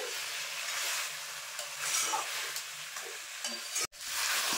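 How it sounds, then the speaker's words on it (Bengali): Coriander chicken sautéing in a pan, a continuous close sizzle with intermittent stirring scrapes, briefly cut to silence near the end before the frying resumes. "এভাবে আমি আর একটু কষিয়ে নেব।"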